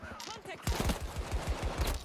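Rapid gunfire in Battlefield 2042, a fast, dense string of shots that starts after a brief pause and continues to the end.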